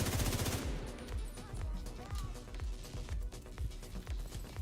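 Gunfire in the video game The Division 2, including sniper shots, heard as a rapid burst of shots at the start, then repeated heavy thumping reports in quick succession under a busy combat soundscape.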